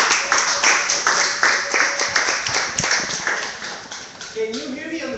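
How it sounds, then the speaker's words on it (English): An audience at a Do Something Good social entrepreneurship talk in July 2015 claps in a steady round of applause for a welcomed speaker. The clapping is fairly close and sustained, and fades toward the end as a voice begins. "So give him a round of applause."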